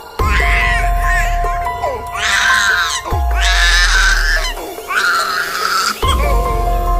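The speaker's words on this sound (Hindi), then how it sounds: "गुड़िया भूख से फिर रोने लगती है," A hungry baby girl crying in repeated loud, drawn-out wails with short breaks between bursts, over a faint steady musical tone.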